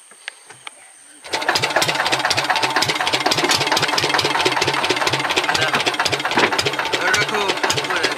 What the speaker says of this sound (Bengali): এবারে মেশিন স্টার্ট দিয়ে তুলতে হবে